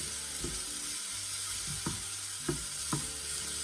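Coarsely chopped garlic frying in a little oil in a pan, a steady soft sizzle with several light spatula scrapes at intervals, heard close and alone.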